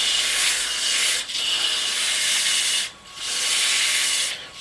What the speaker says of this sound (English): Sanding at 120 grit here